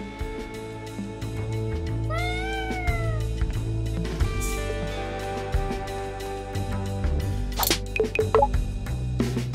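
Cat in the hideout of the Hi-Fi Rush video game, giving one clear rising and falling meow among electronic clicks, soft thuds and a low background hum.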